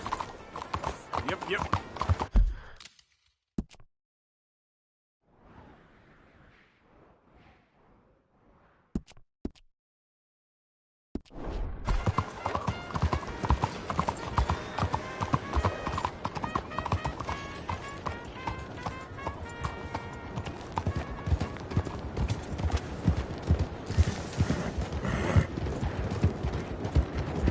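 Horse hooves clip-clop steadily in the video game Red Dead Redemption 2, a fast rhythmic gallop over game audio, with a brief quiet gap early on and a short spoken word.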